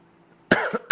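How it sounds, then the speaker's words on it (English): Someone coughs nearby, a short burst followed by a second quick cough. "I'm fighting back a cough right there."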